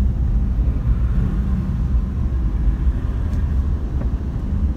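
Heavy coal-hauling trucks and other freight lorries rumble steadily past on the busy access road to Talang Duku port in Jambi, a constant low engine and tyre drone with no clear pauses.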